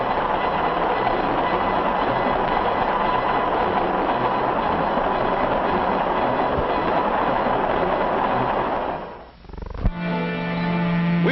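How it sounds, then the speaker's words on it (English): A 1955 passenger train running on rails gives a loud, steady rushing roar with rhythmic wheel noise that briefly drops away, followed by a sustained tonal hum or whistle-like drone near the end. "you travel by train."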